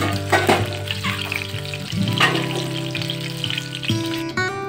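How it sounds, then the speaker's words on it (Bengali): Pieces of sea crab seasoned with turmeric fry in hot oil in a pan, giving a loud, continuous sizzle with stirring scrapes throughout and a faint tonal hum underneath. "কাঁকড়া ভালো করে ভাজা হয়ে গেছে, এবার এগুলোকে তুলে নেব।"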